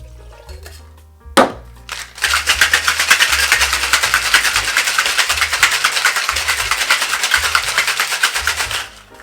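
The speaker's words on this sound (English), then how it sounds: "Let's get us some ice in the shaker and give it a shake." Ice cubes dropped into a cocktail shaker with a clatter, then shaken hard in a rapid, steady rattle for about seven seconds, loud and close while mixing a gin-based sugar plum cocktail.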